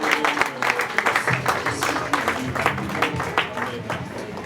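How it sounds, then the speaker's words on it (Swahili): A church congregation applauds and cheers in a worship service, dense clapping sustained throughout with a voice speaking over it. "Makofi na vigelegele kwa jina la Yesu."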